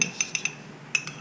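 A spoon scrapes and clinks against a dish while scooping leftover cat food, making several light, bright metallic taps close by in an uneven rhythm, with no talking.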